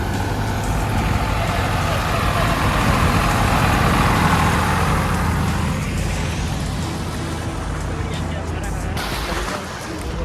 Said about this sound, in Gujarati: તો હવે ટ્રેક્ટર આવી રહ્યું છે